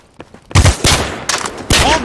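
Gunfire in the blockchain FPS game Fabwelt's Arsenal comes in several sharp, loud bursts of rapid shots with short gaps between them.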